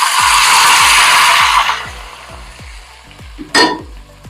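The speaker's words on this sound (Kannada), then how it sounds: "ಇದ್ರ ಮೇಲೆಗಡೆ 1ರಿಂದ 2 ಟೇಬಲ್ ಸ್ಪೂನ್ ಅಷ್ಟು ಬಿಸಿ ಎಣ್ಣೆಯನ್ನ ಹಾಕೊಂಡ್ಬಿಡ್ತೀನಿ." Hot oil hits a red chilli masala paste with a loud, close sizzle that fades after a couple of seconds, while rhythmic ticking clicks run underneath and a brief clatter breaks in near the end.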